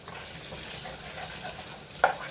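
Meat coated in tandoori masala, ground cumin, ginger-garlic paste and cornflour frying in a pan: an even, close sizzle with soft stirring and one sharper clack of a utensil late on.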